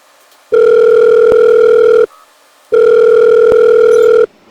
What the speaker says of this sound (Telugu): ఒకసారి కాల్ చేసి మాట్లాడదాం